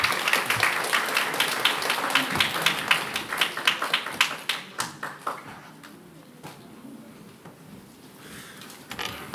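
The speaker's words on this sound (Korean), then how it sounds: "우리가 기쁨으로 환영하는 또 박수를 또 함께 치면서 맞이했으면 좋겠습니다" A church congregation claps together in welcome for a visiting missionary at a Sunday worship service, a dense burst of applause that thins out and fades to scattered claps near the end.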